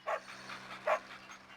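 A dog yelps when struck by a ball in the Chicken Little video game, two short high yips with fainter whimpering sounds between them.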